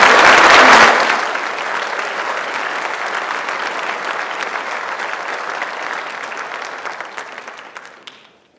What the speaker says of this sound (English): We're going to give these students a round of applause.